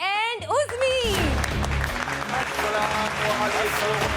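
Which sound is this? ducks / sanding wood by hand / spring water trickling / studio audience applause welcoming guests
studio audience applause welcoming guests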